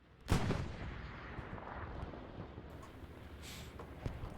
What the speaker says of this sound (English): I hear a bombing run